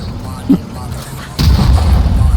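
Explosions boom in the war video game Bitmeyen Savaş 3: a short thump, then a heavier blast that rolls into a sustained low rumble of continuing fire.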